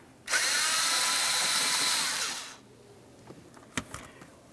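A power tool whirs loudly in a single burst of about two seconds, loosening the 8mm clamp on a Dodge Ram 2500 throttle body, then winds down, followed by faint clicks and handling noises.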